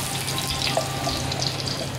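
Green chillies sizzle and crackle steadily in hot oil with fenugreek for a Kerala-style fish curry, a close, continuous frying hiss with small pops throughout.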